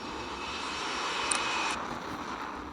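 An airplane engine in a video game starts up, producing a steady, even droning roar that holds for several seconds, with no speech over it.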